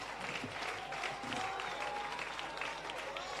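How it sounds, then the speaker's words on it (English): Applause from an audience under a tent at a civil service long service awards ceremony, a steady wash of clapping from a large crowd, moderately loud and continuous throughout. "Give them another round of applause, please."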